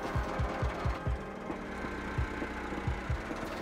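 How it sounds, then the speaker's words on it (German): An auger screw churns and mixes compost with added bentonite clay inside a composting container at a recycling plant, giving a loud continuous mechanical grinding drone with repeated low rhythmic thumps. "Die Schnecke vermengt das Ganze und gräbt es ordentlich um"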